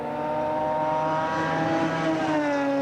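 A rally car's engine drones loud and close as it launches off the start line at the 1988 Ashley Forest rallysprint, a sustained throaty tone with a slight pitch shift near the end.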